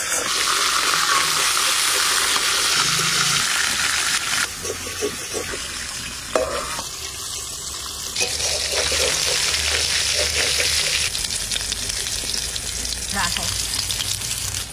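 Large murrel fish pieces fry in hot oil with a steady, close sizzle and crackle that carries on for about fifteen seconds, shifting slightly as the pieces are moved.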